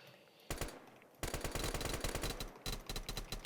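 Rapid gunfire from a starting pistol in the Roblox Pulse FPS game, two quick bursts of sharp, loud repeated shots in a fast machine-gun-like rhythm, heard alone without talk.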